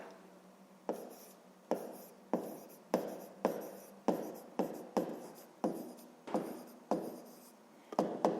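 Pen writing fractions by hand on paper, a quick series of about a dozen short scratching strokes at a steady pace, close and quiet, with no voices.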